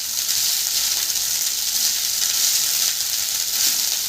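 Cooked rice is mixed in a hot frying pan, a continuous bright sizzle with soft stirring scrapes, steady and close throughout.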